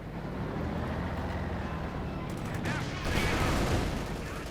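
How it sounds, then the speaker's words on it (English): Bazooka hits and battle noise from a Company of Heroes 2 one-versus-one match form a dense, continuous roar of explosions and gunfire, swelling louder near the end. "few bazooka hits"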